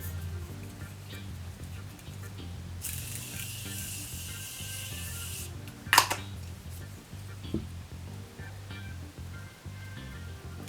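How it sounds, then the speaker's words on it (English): A short burst of fine hissing spray from a Morphe Continuous Setting Mist bottle lasting a few seconds, fairly close, over a steady low background hum, followed by a sharp click. "I'm gonna set all of this together with my Morphe Continuous Setting Mist Spray."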